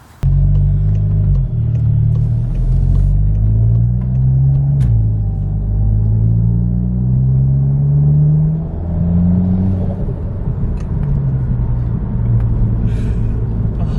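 A Volkswagen Golf GTI Mk7 engine with a large APR turbocharger drones and revs up through gears nearby, with a rising turbo whine over a deep rumble, no talking.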